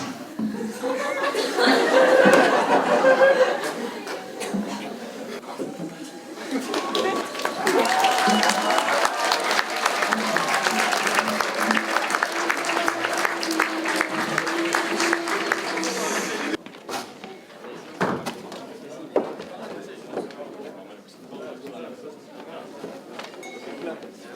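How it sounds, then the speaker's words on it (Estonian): Audience at a school Christmas party clapping along with laughter and chuckles, a loud mixed crowd through most of the span before it thins out, with talk mixed in. "Aplaus!"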